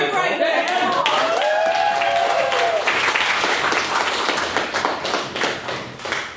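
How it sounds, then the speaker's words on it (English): A debating society audience applauds the judges with dense, loud clapping that fades toward the end, with voices and cheers mixed in over the top. "quick round of applause then for the judges"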